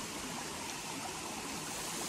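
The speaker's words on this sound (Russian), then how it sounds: "Мы сейчас находимся на водопаде Чичкыш." The Chichkysh waterfall in the Altai mountains roars as a dense, loud, unbroken wash of falling water, close and steady throughout with no voices.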